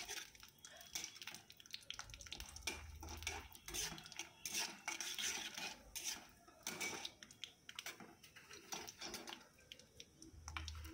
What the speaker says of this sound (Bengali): সর্ষের তেলে আমি বাদামকে হালকা আঁচেতে ভেজে নেব